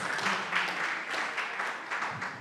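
Steady applause from an audience at a live event, a dense even patter of many hands clapping at moderate distance, continuous with no talking over it.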